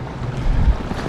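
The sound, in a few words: strong wind during windstorm while fishing from bridge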